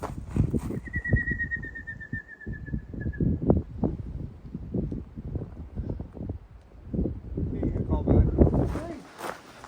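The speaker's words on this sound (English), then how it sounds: "Hear a bird nearby." A bird calls nearby with a thin whistled note, heard over wind noise, rustling, and people talking close to the microphone.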